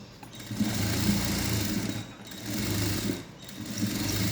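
A sewing machine stitches a silk skirt, running in close, continuous bursts of fast mechanical whirring with brief pauses between runs.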